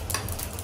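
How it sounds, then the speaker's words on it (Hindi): A tempering of mustard seeds and chillies for coconut chutney sizzles briefly, a steady close hiss with faint crackling and no voices. "राई मिर्च और हींग का तड़का लगा दो"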